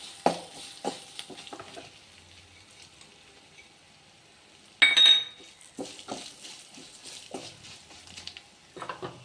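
Peanuts and crushed garlic roasting in a pan, with scattered spoon scrapes and clinks against the metal over a faint sizzle, including one louder clatter partway through.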